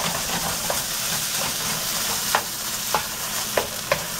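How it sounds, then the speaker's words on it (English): Onion, ginger, garlic and tomato paste sautéing in a pan over high heat, a steady sizzle with occasional sharp scrapes and stirs of a utensil, close and alone. "So before adding any spices, make sure you cook this properly in high heat for about 5 minutes sauteing."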